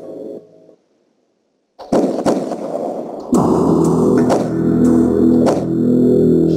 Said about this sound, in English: Unless you see the shooter, you may not recognize the sounds for what they are. Gunshots.